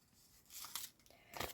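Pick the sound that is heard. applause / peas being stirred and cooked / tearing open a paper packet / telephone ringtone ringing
tearing open a paper packet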